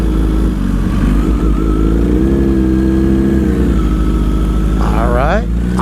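A 2020 Kawasaki Z H2 motorcycle accelerates hard up close, its loud engine note climbing in pitch through the gears, and a brief voice is heard near the end.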